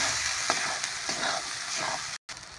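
Whole spices and turmeric sizzle in hot oil in a pan for a mushroom and pea curry, with a few soft stirring scrapes over a steady frying hiss and a brief dropout near the end.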